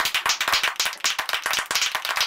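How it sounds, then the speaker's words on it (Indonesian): A small group claps quickly and energetically, close and loud, a continuous patter of sharp hand claps with no voices over it, during a car wheel unboxing featuring a locally designed HSR Wheel rim. "Ayo kasih tepuk tangan."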